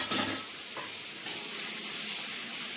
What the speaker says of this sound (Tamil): இப்போ நல்லா எண்ணெய் இந்த பச்சை வாசனை போகிற அளவுக்கு ஒரு 2 வதக்கு நம்ம வதக்கணும்